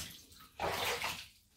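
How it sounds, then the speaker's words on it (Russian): Water poured from above over an infant in a home bathtub, a short splashing gush that swells for about half a second and then tapers off, close and fairly soft. "Поливаем водичкой сверху."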